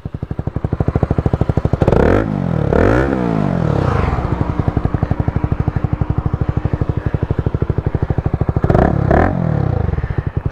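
Single-cylinder, four-valve Honda CBR 150 engine fitted with a silencer idles with a steady, fairly muted thump, blipped upward in short revs near the start and again near the end, close by and alone.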